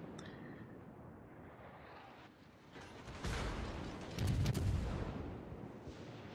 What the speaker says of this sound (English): So T-22 is opening fire.